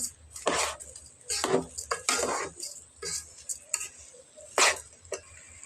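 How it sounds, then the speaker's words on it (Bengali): Onions and chilies fry in hot oil in a pot for Bengali polao rice as a utensil scrapes and stirs them in irregular bursts, close and clear with no talking. "পেঁয়াজ মরিচ সব কিছু একসাথে মিক্স করে নিচ্ছি ভালো করে লাল লাল করে এগুলা ভেজে নিব তেলের মধ্যে"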